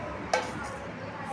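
A spoon clinks against a dish while rasmalai is served out, a single bright metallic tap near the start followed by faint scraping against a quiet kitchen background.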